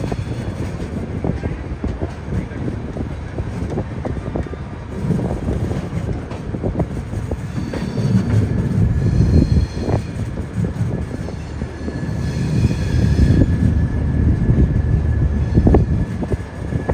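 A Humsafar Express train runs steadily at a railway station on a windy day, a continuous loud rumble with wind buffeting the microphone and no talk.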